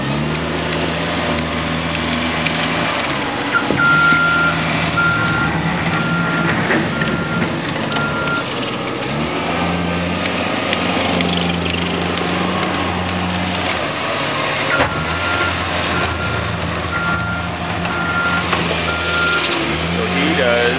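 A snowplow truck reverses during overnight plowing, its engine droning steadily while backup beeps sound intermittently over the low rumble.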